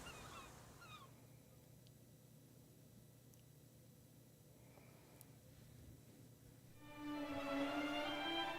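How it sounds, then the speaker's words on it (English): Seagulls call in a video game: a few harmonic, honking cries at the start, then a quiet lull over a low steady ambient hum, and a louder burst of layered gull calls near the end. "Hear the seagulls?"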